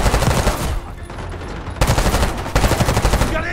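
Sustained automatic gunfire in a Black Ops 6 campaign firefight, loud and dense bursts of rapid shots from several weapons, close and overlapping with barely any pause.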